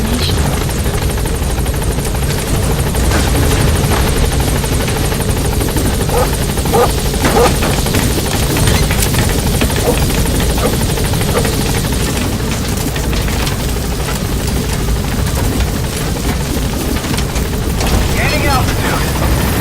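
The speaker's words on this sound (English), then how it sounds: "Support helicopter has arrived." Pequod, a support helicopter in a video game, hovers close by with a loud, constant rotor thrum and churning roar for the whole stretch, under occasional radio-style voice lines.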